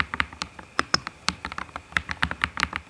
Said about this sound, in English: if I type it softly, I'll enhance the audio